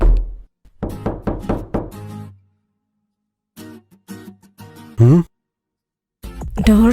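A rapid, even series of about five sharp knocks on a door in a Tamil film scene, loud and close, followed after a short pause by people talking.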